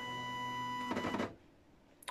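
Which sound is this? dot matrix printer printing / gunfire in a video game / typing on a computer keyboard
dot matrix printer printing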